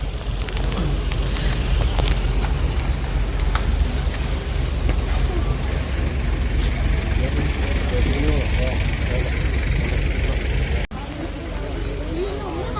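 A bus engine idles with a steady low rumble as passengers get off at Thekkady near the Periyar river, and people talk over it throughout.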